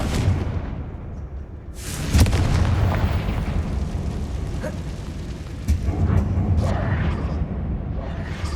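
A Confringo spell bursts in Hogwarts Legacy on PS5 inside a mine, a loud rumbling blast followed by a sustained roaring, crackling wash of debris and game ambience, with a second surge of rumble later.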